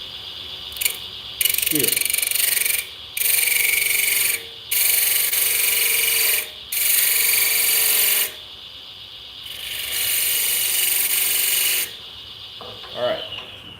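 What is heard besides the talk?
wood lathe turning in reverse, scraping cherry wood spice jar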